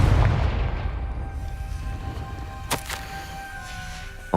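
The Confringo spell goes off in Hogwarts Legacy as a loud booming blast that rumbles and fades, followed by a sharp crack partway through.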